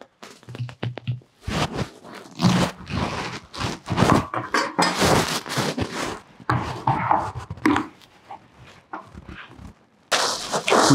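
A kitchen knife cuts through a whole pumpkin, halving it for soup: a series of loud, close chops and knocks against a board, with clattering handling sounds between strokes and no talk.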